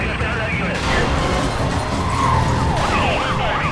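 In Need for Speed Most Wanted, a police car siren wails, its rising and falling tone standing out over engine and road noise during a chase, while a player talks over it.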